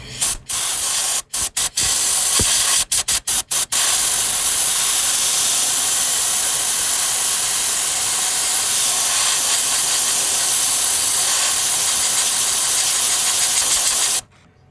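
Compressed air from a 21-gallon compressor blows out during a Tesla Model S steering shaft U-joint repair. A few short, loud bursts lead into a long, continuous roaring hiss that cuts off sharply at the end.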